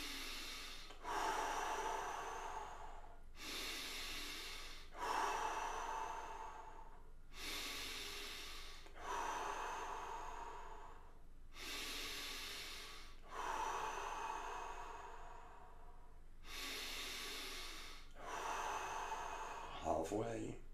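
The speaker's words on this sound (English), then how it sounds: "Keep on breathing." Deep, steady breaths taken during a guided breathing exercise session, each long inhale-exhale cycle repeating in a regular rhythm of roughly two-second bursts, close and fairly loud, with no talking.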